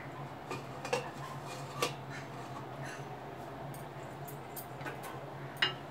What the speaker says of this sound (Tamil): இப்போ மூடியாச்சு